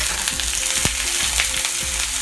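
Smoked sausage sizzles steadily in a hot pan for red beans and rice, a loud, dense frying hiss with a few faint pops and scrapes, no talking.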